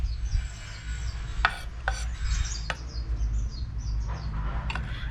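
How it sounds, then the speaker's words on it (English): A knife chops garlic on a board for Thai-style garlic naan, a few sharp scattered taps over a low kitchen rumble, with faint bird chirps in the background. "I'm chopping up the garlic to add"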